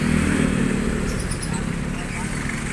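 Motorcycles and other vehicles idle and creep through heavy traffic in Tanza, Cavite, a dense, steady engine rumble close by with street clatter. A voice speaks over it.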